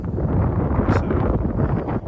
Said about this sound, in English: It's nice out, it's a little windy